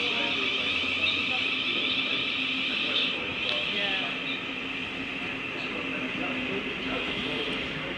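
A twelve-car Thameslink Class 700 electric train departs at Redhill station, its traction motor giving a steady whine and hum with faint rising tones over low rumble, at moderate distance.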